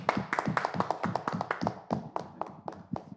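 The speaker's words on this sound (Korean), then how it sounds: "박수" A single person clapping hands alone at the close of a memorial symposium, a steady run of crisp, fairly quiet claps at an even quick rhythm with no crowd joining.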